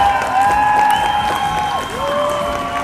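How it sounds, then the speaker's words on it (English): Crowd at a bantam AA hockey game cheering and applauding in an arena, a steady, dense wash of noise over ringing tones that slide in pitch, as from a horn or organ. "And listen to this crowd."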